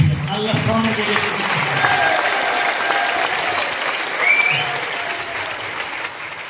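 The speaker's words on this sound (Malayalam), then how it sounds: "അതാ കയ്യടിയുടെ ഒരു സ്ട്രോങ്" Sustained audience clapping at a motivational business talk, dense and steady throughout with a faint tonal whistle partway, no speech over it.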